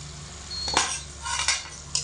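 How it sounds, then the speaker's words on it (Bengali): A lid lifted off a simmering pot of flour-based curry, giving a few short metallic clinks and scrapes of pan and utensil, close by over a quiet background with no talking. "এবার আমি ঢাকা চাপাটা খুলে দেব"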